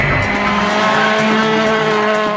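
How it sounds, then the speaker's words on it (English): Loud, close engine roar of a Volkswagen Polo R WRC rally car with a turbocharged four-cylinder accelerating, a sustained rising drone heard from inside the cockpit. "We're going to accelerate again."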